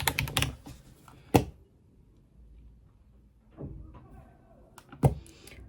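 Keys on a computer keyboard clatter in short bursts, a quick flurry of taps, a pause, then a few more scattered clicks, close and fairly quiet.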